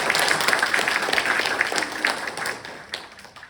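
Audience applause at a meeting of an agricultural cooperative's planning committee, a steady dense patter of many hands clapping that carries on for several seconds before gradually thinning out.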